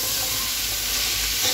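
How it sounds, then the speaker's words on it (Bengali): Cabbage frying in a home kitchen pan gives off a steady, close sizzle with faint stirring scrapes, continuous and fairly loud with no voices. "এদিকে তো বাঁধাকপি ভাজা হচ্ছেই"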